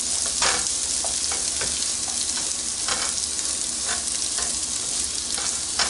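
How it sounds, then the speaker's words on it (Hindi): Mixed vegetables stir-frying on high heat hiss with a steady, loud sizzle, with scattered crackles and spatula scrapes breaking through; no one speaks. "इसको हाई हीट पे हमने फ्राई करना है। 2 मिनट मैंने इन सब्जियों को फ्राई कर लिया है।"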